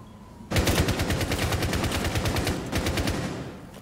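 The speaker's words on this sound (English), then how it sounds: "They're trying to break the hatch using their guns." Sustained automatic gunfire in a zombie video game, players shooting at an attic hatch: a rapid, loud burst of evenly spaced shots starts abruptly and continues for about three seconds before tapering slightly.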